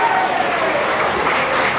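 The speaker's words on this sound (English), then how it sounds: "Big round of applause for both of the competitors" A capacity crowd at a fairgrounds boxing event applauding the competitors after a bout, a dense, loud, continuous roar of clapping with no gaps.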